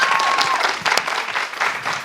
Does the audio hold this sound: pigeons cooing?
no